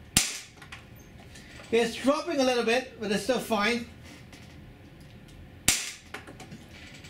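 A Walther PPS 4.5mm CO2 blowback airgun fires two sharp, loud, close cracks a few seconds apart, with someone talking between the shots.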